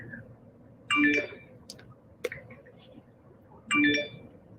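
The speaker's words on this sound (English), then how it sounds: "All these notifications." Phone notification tones chime twice, each a bright short melodic ding about three seconds apart, with a sharp click between them over a steady low room hum.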